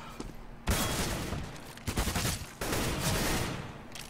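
Pistol gunfire in CS:GO: bursts of rapid Glock shots and dense firing crackle in several loud waves, with quieter gaps between volleys.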